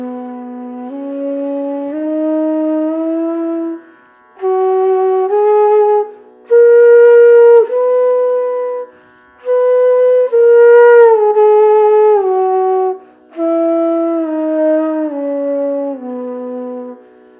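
A bansuri bamboo flute, tuned with sa in B, plays a sa re ga ma scale, with clear sustained notes stepping up and down in several phrases and short breath gaps between them, played alone and close.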